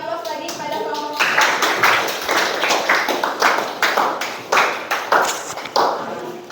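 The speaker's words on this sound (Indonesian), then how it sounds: "kita beri aplaus lagi pada kelompok 3" A classroom audience of teachers claps and applauds for a presenting group, a dense burst of hand claps that starts a little over a second in after a brief voice and continues with uneven rhythmic peaks to the end.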